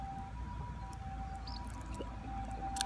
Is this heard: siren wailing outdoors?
yes